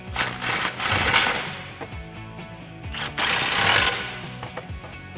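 Rapid mechanical rattling in two loud bursts as a socket wrench with an extension tightens 13mm bolts on a Roush cat-back exhaust for a 2018-2019 Mustang GT, close up, with lighter clanks between the bursts and no voices.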